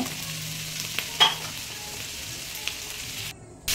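Slit green chillies, ginger paste and chopped tomato fry in a pan for a mutton and papaya curry, giving a soft continuous sizzle with a bright utensil clink partway through and a brief drop before the hiss returns.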